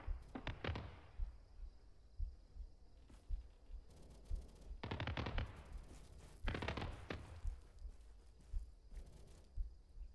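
Anti-air gunfire in ArmA 3 with a Halo mod, heard as a few short, rough bursts of distant shooting spread over several seconds against a steady low rumble.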